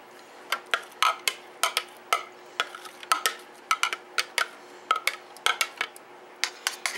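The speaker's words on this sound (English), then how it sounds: "And then I'm going to put this back into the pan." A spoon scrapes and taps mashed cauliflower from a container back into a cooking pan, making a close series of irregular clinks and knocks with faint scraping between them.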